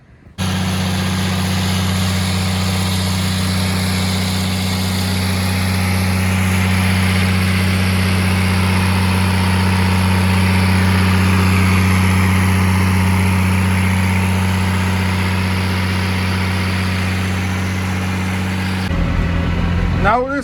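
A 1994 Ford tractor engine idles with a steady low droning hum, close and constant for nearly the whole stretch, with a brief shift near the end.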